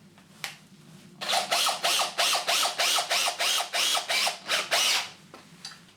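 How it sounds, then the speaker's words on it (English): An M8 corkscrew fixing is screwed into Gasbeton aerated concrete with a DeWalt tool, making about a dozen rhythmic, evenly spaced ratcheting bursts, close and clear, with a single click before and after. "We can take the item that we're fixing and we can screw that into the Gasbeton."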